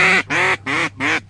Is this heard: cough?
no